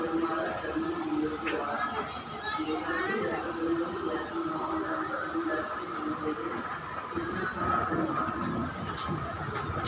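A train runs through a railway station in Mumbai, a steady rumbling rolling noise with faint clattering, heard at moderate distance under background chatter and voices.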